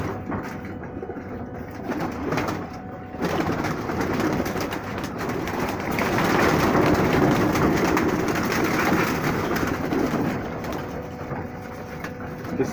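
Kala jeera pigeons with pure pukhraji eyes in a large loft flock, giving a continuous mass of soft cooing and rustling, dense and close, with a faint steady background hiss.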